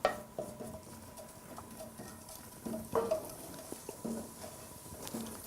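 Whole cumin seeds crackle and pop in hot vegetable oil in a pan, with scattered faint sharp pops and a soft sizzling patter throughout, no voices.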